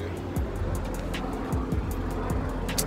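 A Nissan Sentra working as an Uber car pulls up on a cold game day, its steady low engine rumble close and continuous, with a few rising and falling tones as it slows and no talk over it.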